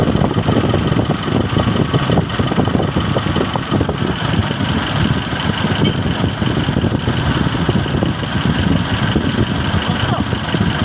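A car engine idles steadily and loudly after repair, a continuous close rumble with faint voices mixed underneath throughout.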